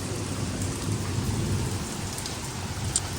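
Heavy rain pours steadily onto surfaces during a thunderstorm, with low thunder rumbling beneath the dense, constant patter and no one speaking.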